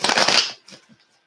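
A deck of tarot cards is cut and riffled in one short, crisp papery burst up close, then a few soft taps as the halves settle, with no talk.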